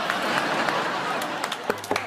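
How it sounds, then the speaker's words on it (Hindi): A group claps steadily in a comedy show scene, making a dense, continuous patter that fills the moment before thinning into a few scattered claps and brief voice sounds at the end. "ताली बजाओ।"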